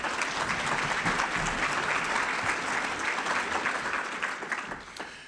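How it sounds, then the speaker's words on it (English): An audience at an Akron Public Schools state-of-the-district address breaks into steady, dense applause that carries loud and even for most of the clip, then thins slightly toward the end. "And I think they should get a round of applause."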